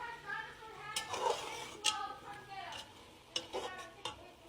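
Ground turkey sausage and carrots being stirred in a pan for lasagna soup, with intermittent close scraping strokes over a soft, steady sizzle.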